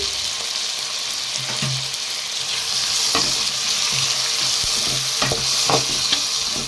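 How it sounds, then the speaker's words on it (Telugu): Tomatoes frying in a pan and being stirred while they soften, a steady close sizzle broken by scraping stirs of the spoon, with no voices. "టమాటాలు కూడా మగ్గుతాయి తీసి కూడా ఒకసారి తిప్పుకుందాం"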